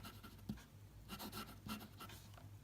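An Indian-made Gama Supreme fountain pen with a wet nib scratches softly across paper in close, quiet strokes, the soft scratching rising and falling in several short runs.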